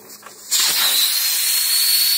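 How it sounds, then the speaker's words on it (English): Pressurized steam venting from a pressure canner after the weight is lifted off, a loud steady hiss that bursts in at once and keeps rushing without letup. "pressurized steam coming out of there"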